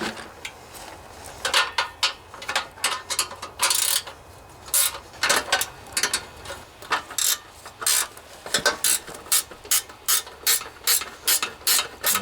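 Ratchet wrench turning out bolts on a Briggs and Stratton riding lawnmower engine, with close, loud bursts of rapid clicking separated by short pauses, no talking.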